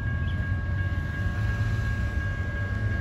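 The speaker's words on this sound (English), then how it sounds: "here comes that coal train" A coal freight train rumbles steadily past at close range, a constant low roar with a faint tonal whine, no horn.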